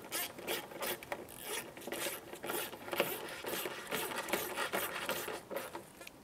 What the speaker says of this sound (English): Go ahead and install your 10mm bolts.